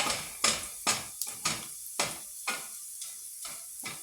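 Chopped ginger sautéing in a pan for a mussel (tahong) dish: a steady, soft sizzle with a rhythmic series of sharp stirring and scraping strokes roughly every half second, close and fairly clear, with no talking.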